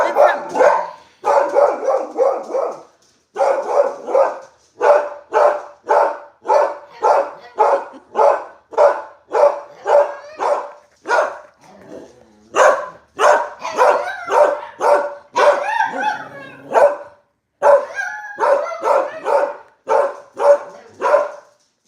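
A dog barks loudly and repeatedly up close in a fast, steady series of sharp barks, with short pauses and occasional whiny yips.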